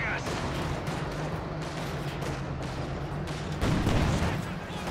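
Mortar and battlefield gunfire in Company of Heroes 2 rumble beneath a talking voice, with scattered reports and a heavier thud swelling near the end.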